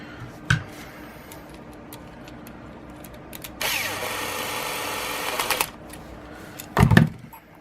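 A power drill drives screws in a single steady whirring run of about two seconds, close and fairly loud, with sharp knocks and handling clatter before and after and no talking.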